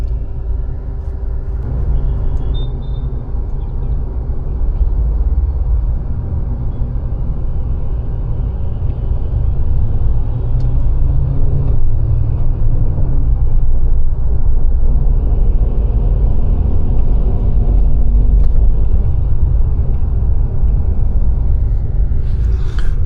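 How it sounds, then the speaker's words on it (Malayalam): A Volvo B8R engine drives a Volvo 9600s sleeper coach, heard from inside as a low, steady rumble that swells slightly as the bus moves off and holds throughout, with no talking. "നിങ്ങൾക്ക് എൻജിൻ സൗണ്ട് കേൾക്കാൻ പറ്റുന്നുണ്ടോ എന്ന് എനിക്കറിയില്ല."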